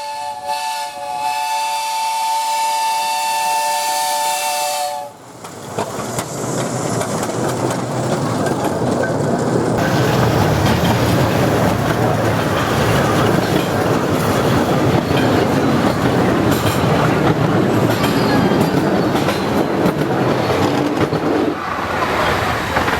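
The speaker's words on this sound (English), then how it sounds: "Leaving the terminus at Trago Riverside is one of the most popular locomotives on the line" A 10¼ inch gauge replica of a Sandy River and Rangeley Lakes Railroad 262 narrow gauge steam locomotive shrills its whistle for about five seconds, then pulls out of the Trago Riverside terminus with loud, close, steady chuffing and hiss.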